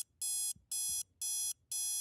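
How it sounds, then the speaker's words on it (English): Beeping from a video game puzzle: four identical electronic tones sound at an even pace, about half a second each with short gaps, bright and clear against a quiet background. "You confirm your choice and a beeping starts."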